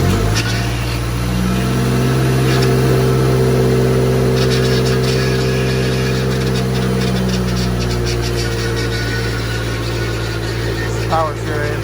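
Mazdaspeed 3 engine idling on its first startup after a build, a steady, close, continuous low hum that holds even throughout with slight vibration and some faint clicks and rattles over it.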